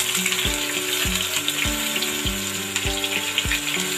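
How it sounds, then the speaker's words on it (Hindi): Chopped onions frying in oil for a Kashmiri chicken dish, a steady close sizzle running throughout with a few clinks or stirring knocks at regular intervals and no talking. "अब मैं इसको ना इसके अंदर डाल के इसको भी फ्राई कर लूँगी।"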